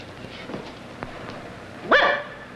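A small dog gives a single sharp, close yip-like bark after a few faint sounds.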